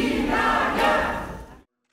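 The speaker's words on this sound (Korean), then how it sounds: "붉은 계열의 넥타이를 맨 이낙연 전 민주당 대표가 지지자들의 환호를 받으며 국회로" A crowd of supporters cheers loudly as a former Democratic Party leader arrives at the National Assembly, a dense continuous roar that swells briefly and then cuts off abruptly.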